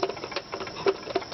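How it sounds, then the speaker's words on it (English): Birdseed poured into a bird feeder makes a quiet, uneven patter of small grains ticking and rattling in quick clustered bursts, close and alone. "I put the seed in this feeder"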